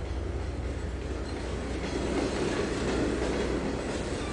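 Train cars roll along the track in Trainz 2022, giving a steady, close rumble with a faint rhythmic clatter throughout and no talking.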